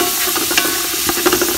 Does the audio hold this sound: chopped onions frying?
yes